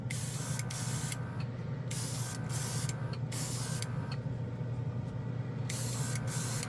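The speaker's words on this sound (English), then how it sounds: "Spray's pretty good. It atomizes the paint really well." Steady hiss of an airbrush spraying paint, continuous with short bursts and pauses, with a low compressor hum running underneath throughout.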